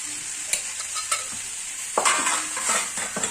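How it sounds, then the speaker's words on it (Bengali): A spice mixture with chili powder and sugar is stir-fried in a pan for a papaya and moong dal curry: a steady close sizzle is broken by several sharp spatula scrapes and knocks, with no voices. "চিনি দিয়ে এবার মশলাটাকে কষিয়ে নেব।"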